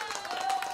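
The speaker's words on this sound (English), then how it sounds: "Applause." A brief burst of close, rapid clapping from a small group, lasting under a second.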